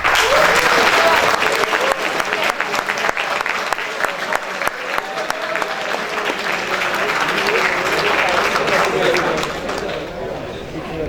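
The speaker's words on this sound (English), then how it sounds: "let's give it another round of applause" Sustained applause from an audience at a Toastmasters evening event at BITS Pilani, dense and steady clapping filling the room for about eleven seconds, tapering slightly near the end.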